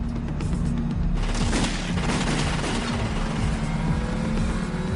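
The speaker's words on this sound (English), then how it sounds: "a slow-moving car approaches the house" A slow-moving car rolls up toward a house, its low engine rumble steady and fairly close, mixed with sharp cracking hits and a dense background.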